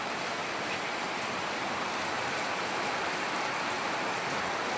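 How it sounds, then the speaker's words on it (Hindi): Steady hissing heavy rainfall pours continuously in Uttarakhand, a dense even wash of noise with no voices, fairly faint and unchanging. "ये देखना कितनी बढ़िया बारिश हो रही है हमारे यहाँ आज भी।"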